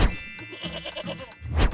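A goat on a farm gives one clear, wavering bleat, followed by a short rough rise of noise at the end, close and fairly loud with no talking.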